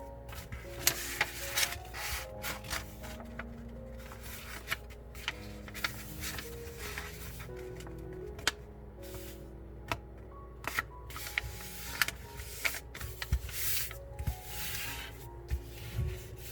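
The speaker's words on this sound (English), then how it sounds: "Now unfold the paper. Repeat the same fold for the opposite side." Paper being folded and creased into an origami airplane, heard as scattered crisp clicks and soft rubs over steady background music.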